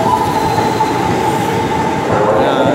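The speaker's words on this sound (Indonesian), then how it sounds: "Nah, ini kereta." A commuter train near Jakarta rumbles past loudly and continuously, with a faint steady whine of wheels on rails.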